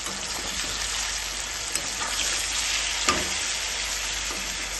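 Flat beans frying with spices in a pan, a loud, dense, rain-like sizzle that holds steady throughout, with a few faint stirring knocks.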